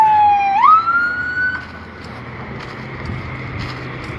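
A fire engine siren wails loud and near on a Tulsa street, its rising tone sweeping upward and then holding steady before fading into traffic noise.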